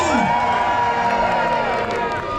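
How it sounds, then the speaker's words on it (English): A large crowd at a Legoland holiday harbour show cheers and shouts continuously, loud and close, with children's voices in the mix and no pauses. "the crowd cheers with glee"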